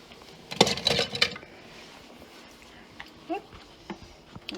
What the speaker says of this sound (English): I'm going to take this and spoon it onto my tortilla shells